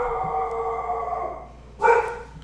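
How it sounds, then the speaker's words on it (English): A pet dog barks and howls indoors, a sustained wavering howl followed by a short louder bark burst, close and fairly loud with no talk over it. "My dog is going crazy."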